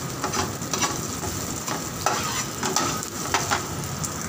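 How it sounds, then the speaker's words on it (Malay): Shallots and garlic sautéing in a pan for stir-fried bitter melon: a dense, continuous sizzle with stirring scrapes and bright crackles, loud and close, with no talk. "kita masukin bawang merah bawang putihnya, kita tumis supaya bau harum"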